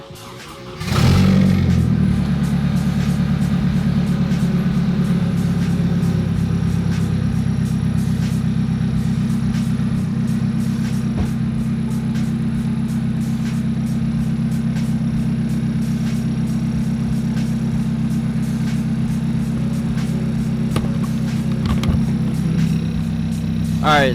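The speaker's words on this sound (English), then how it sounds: "I'll start the car." A turbocharged Nissan 240SX engine starts with a sharp crank, then runs steadily at a loud, low idle with a faint high whine above it.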